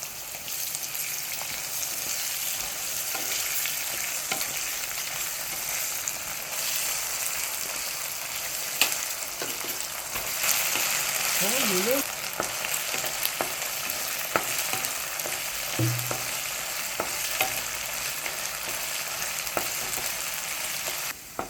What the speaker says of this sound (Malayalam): ഇത് നന്നായിട്ട് വഴഞ്ഞ് തുടങ്ങിയിട്ടുണ്ട് നല്ല മണക്ക് വരുന്നുണ്ട്